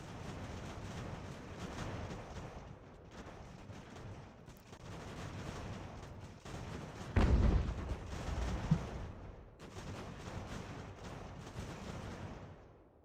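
An artillery battery fires in the strategy game Ultimate General: American Revolution, a continuous low rumble of distant cannon fire with one louder booming volley in the middle.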